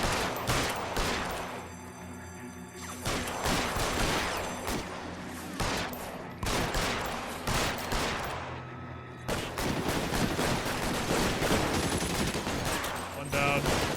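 Dense, rapid bursts of gunfire from a Colt 45 and other weapons in the video game L.A. Noire, with shots crackling almost continuously and loudly throughout a chaotic shootout.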